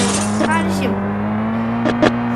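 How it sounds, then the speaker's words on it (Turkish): Speeding car in a driving video game, engine droning at high revs with tyre squeals and whooshes, under continuous talk. "Bakın son sürat arabamızda polisten kaçabiliyoruz"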